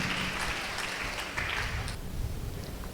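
A congregation clapping at a Christian prayer meeting, a burst of mixed handclaps and cheering that thins after a couple of seconds into scattered claps and room murmur.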